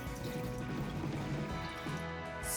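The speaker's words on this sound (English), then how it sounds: "swirl it all around and pour the water off" Water poured off rinsed rice, a short, soft trickling and splashing of liquid running steadily for a couple of seconds, close and fairly quiet.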